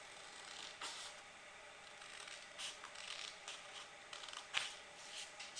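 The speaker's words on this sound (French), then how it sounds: "je prends ma paire de ciseaux et je coupe" Scissors cutting through folded paper, close and quiet, with soft irregular snips and rustling crunches of paper spread over several seconds.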